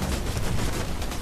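Sustained gunfire in the jungle shooter Raven Squad, a dense, steady barrage of shots that is loud and continuous, with no voices over it.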